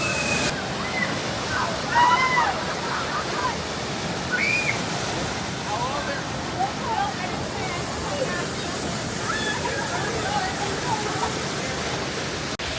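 Water splashes and rushes loudly and continuously as riders go down the Mystic River Falls water ride at Silver Dollar City, with faint shouts and voices rising over the roar.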